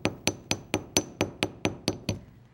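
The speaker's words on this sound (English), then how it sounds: "I'll do that with a steel block and a ball peen hammer" A ball peen hammer taps wire against a steel block in about ten sharp, evenly spaced metallic strikes, close and clear with a brief ringing decay after each hit and no talking.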